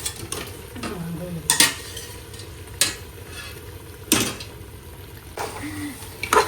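Mutton is added to a pan for biryani and stirred, with repeated sharp scrapes and knocks of a utensil against the pan over a soft, steady sizzle of frying.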